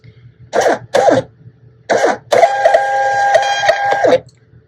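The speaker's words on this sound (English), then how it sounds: "Oh, and it printed out." A Nelko Bluetooth thermal label printer prints a shipping label, giving three short mechanical bursts and then a steady whirring feed of about two seconds, loud and close.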